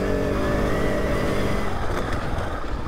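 A KTM 690 Enduro R, a 2019 big single-cylinder dirt bike, roars steadily while ridden over bumpy ground, the loud continuous engine drone filling the whole stretch with no voices.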